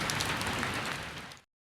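Steady rain hiss while riding an electric bicycle in a downpour, a dense even wash of drops that runs loud and close for about a second and a half, then cuts off abruptly to silence.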